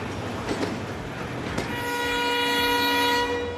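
A train pulls away, a short horn toot and rail clatter swelling into a steady, loud mechanical rumble with sustained tonal whine, heard alone without talk.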